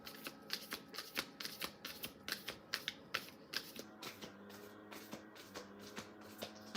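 Moonology oracle cards are shuffled by hand in quick, crisp riffles and soft slaps, a rapid irregular patter heard close up with no talking.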